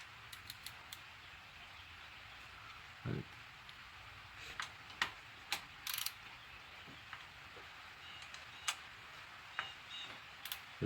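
A socket ratchet clicks in short irregular runs of faint ticks while bolts come off a Hyundai Tiburon, with occasional louder metallic clinks and no talking.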